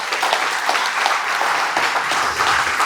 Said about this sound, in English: Give yourselves a round of applause just for being here.